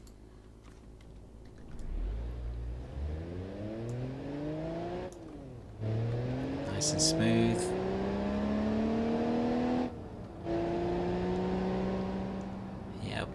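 A modern car in BeamNG Drive accelerates to 60 mph, its engine tone climbing repeatedly through several gear changes with brief drops between them, while someone talks briefly over it.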